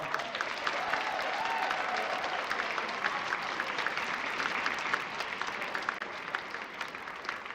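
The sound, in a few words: audience applause at a school assembly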